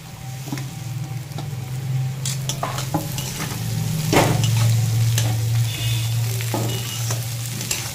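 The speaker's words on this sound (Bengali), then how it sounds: "বিনসটা কিছুক্ষণ ভেজে নেব। বিনস আর গাজর একসঙ্গে।" Beans and carrots stir-fry in a pan, sizzling steadily up close while a utensil scrapes and clatters against the metal in irregular strokes.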